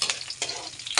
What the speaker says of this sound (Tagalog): igisa ang bawang at sibuyas.